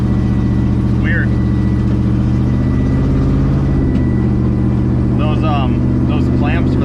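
A car engine runs loudly with its exhaust fallen off after its clamps failed, a deep steady droning rumble throughout, with brief faint voices near the end.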